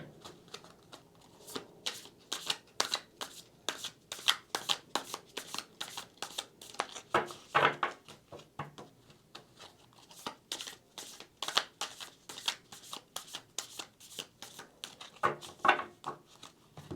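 Tarot cards from the Muse deck are shuffled by hand, a long run of quick, close riffling bursts in an irregular rhythm, faint and with no talking.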